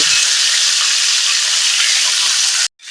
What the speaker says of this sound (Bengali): এবার দিয়ে দেব তেঁতুল একটু ভালো করে ভেজে নেব